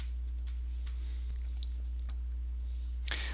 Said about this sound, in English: So we're going to take the name of the recipe and type it in.